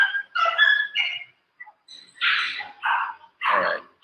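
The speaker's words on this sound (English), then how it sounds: "These dogs are losing their minds over here." Several dogs bark in a rapid series of sharp, loud yips and barks, some overlapping, with short pauses between bursts, close by.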